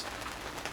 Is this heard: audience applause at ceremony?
no